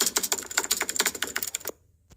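Rapid typewriter typing sound effect added to a Kinemaster greeting video, a dense run of crisp key clacks for almost two seconds, then stopping abruptly with a faint final tick.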